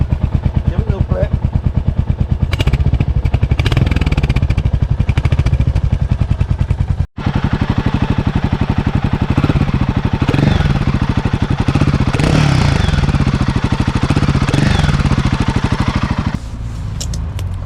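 A Royal Enfield 450 Guerrilla motorcycle engine runs steadily at close range, its loud, even thumping pulse holding throughout, with one brief cut partway through and a slight drop near the end.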